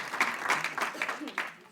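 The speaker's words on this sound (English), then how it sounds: "Let's give them a round of applause" Brief audience applause at a public lecture, a short patter of clapping from a modest crowd with some uneven, distinct claps.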